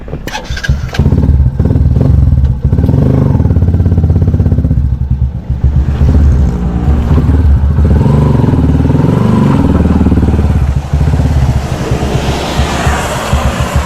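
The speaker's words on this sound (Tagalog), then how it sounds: "napainit ko na rin yung makina ni Mia eh." A motorcycle engine is warmed up up close, idling loudly with a rough, rapid rhythmic chug and some clattering, and the sound shifts slightly in pitch as it runs.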